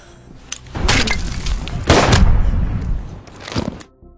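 A soldier fires a gun in a zombie film: a few loud, close gunshot blasts with heavy low thumps, spaced apart and standing alone without talk.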